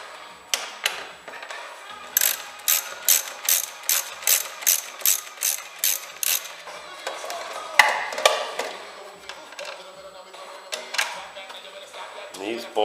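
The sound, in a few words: ratchet removing bolts from Honda GL1800 side frame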